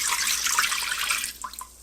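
Chicken broth pours steadily into a pot with a bright splashing rush, then slows into a few trickles and drips near the end.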